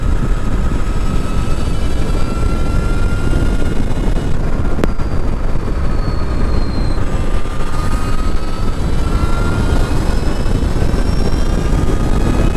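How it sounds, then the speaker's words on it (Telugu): An Ultraviolette X47 electric motorcycle runs at full throttle in combat mode, a loud steady rushing drone with rising whining tones over heavy wind noise and no talk. "సో కాంబాట్ మోడ్లో థ్రాటిల్ ఇస్తాను చూడండి"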